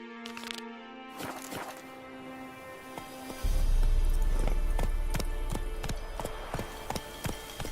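Roach the horse breaking into a gallop in The Witcher 3, close hoofbeats clopping in a quickening rhythm over game music, with a heavy low rumble joining partway through.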